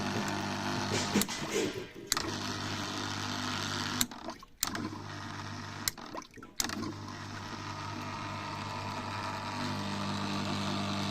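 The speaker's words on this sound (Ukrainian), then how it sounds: "Гаряча вода з лимонною кислотою, двигун від пральної машинки." A washing machine motor pumps hot water mixed with citric acid through the heater radiator of a Lanos car, giving a loud, continuous motor drone with rushing water that briefly cuts out and restarts a few times.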